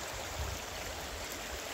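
Water in a Jamaican river rushes and gurgles steadily at moderate volume, a broad continuous hiss with no voices.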